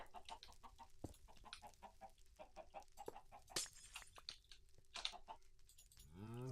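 Chickens in a video game cluck in quick, busy bursts, several birds overlapping at close range, with sharper squawks mixed in and a rising synthetic tone at the end.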